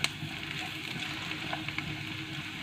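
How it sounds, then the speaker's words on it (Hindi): Chicken frying over a medium-low flame for chilli chicken, a steady soft sizzle with faint crackles and light stirring, close by and with no voices. "मीडियम लो फ्लेम में आपने इसकी फ्राई करनी है।"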